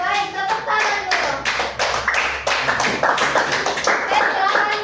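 A classroom group bursts into steady applause, many hands clapping together for several seconds at close range, with children's voices chattering underneath.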